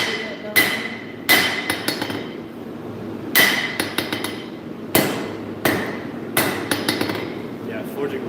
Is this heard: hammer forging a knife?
yes